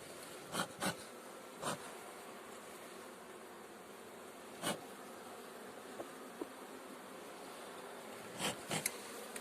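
Honeybees buzzing around an opened hive during a hive inspection, a low continuous hum broken by several brief louder buzzes as single bees fly close past.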